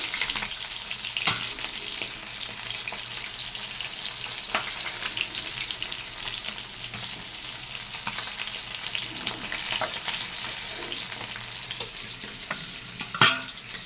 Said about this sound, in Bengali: এই তেলের মধ্যে দিয়ে দিচ্ছি 1/2 চামচ কালো জিরে, 2 বড় সাইজের পেঁয়াজ বাটা